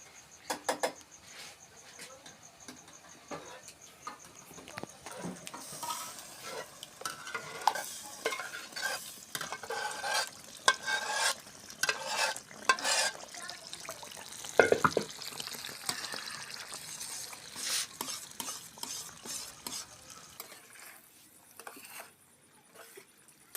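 Vegetable gravy for pav bhaji hits hot spiced oil in a pan, sizzling loudly and scraped by repeated, rhythmic stirring strokes that rise and fall in intensity, close up, with no talking.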